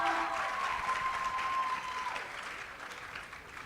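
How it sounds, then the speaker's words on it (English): A crowd claps steadily for a speaker at a Girls in ICT event, the dense applause holding strong before gradually tapering, with a brief tonal squeal over it early on. "Let's give her a round of applause."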